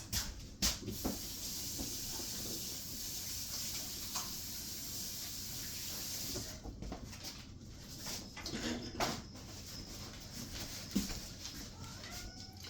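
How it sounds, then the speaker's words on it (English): Running tap water streams steadily while hands are washed in a home kitchen, a soft continuous hiss with a few small knocks and clicks, close and quiet, with no talking. "Now I'm going to wash my hands"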